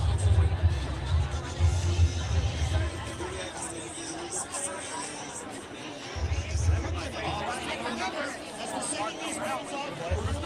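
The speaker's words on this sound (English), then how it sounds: "And we've got a crowd here today." Crowd of runners gathered at the start of the runDisney Wine and Dine 5K, a dense outdoor babble of many voices with low rumbling bursts, continuous and moderately loud, with a clear voice speaking over it.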